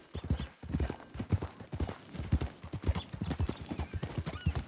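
Close, steady clip-clop of a horse's hooves in the Red Dead Redemption 2 video game, a quick even rhythm of sharp knocks carrying through the whole stretch with no voices over it.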